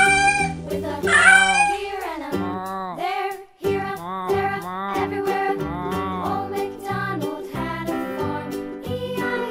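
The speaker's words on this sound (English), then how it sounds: "cat." A cat meows repeatedly, loud and close, with drawn-out, wavering cries that rise and fall in pitch.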